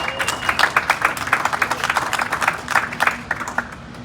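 An audience at an announcement event for a new Rapid City arena football team applauds its co-owner, a crisp, lively burst of many clapping hands that keeps going steadily and tapers slightly at the end.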